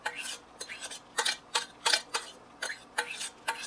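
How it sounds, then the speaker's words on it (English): A spoon scrapes and clinks against a pot while white rice is stirred into cooked hamburger meat for stuffed peppers, making a close, steady series of scraping strokes with no talk. "So right now I'm mixing in the rice."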